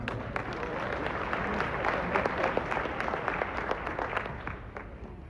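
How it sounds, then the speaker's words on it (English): At a podcast summit, an audience applauds a question, steady crowd clapping heard from a distance and fairly quiet, with some murmuring voices mixed in. "Clap it up for the question."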